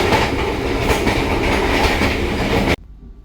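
A long-distance passenger train in Indonesia rumbles steadily along its rails, loud and close with a rhythmic clatter from the wheels, before it cuts off abruptly near the end.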